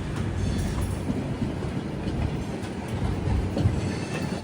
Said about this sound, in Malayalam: ട്രെയിൻ ഇപ്പോൾ 130 km/h സ്പീഡിലാണ് പോയിക്കൊണ്ടിരിക്കുന്നത്.